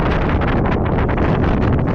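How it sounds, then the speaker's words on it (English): Strong wind on a Norwegian island blasts straight into the microphone, a loud, constant, rumbling roar with no letup. "Let's just say it was a little windy on the island."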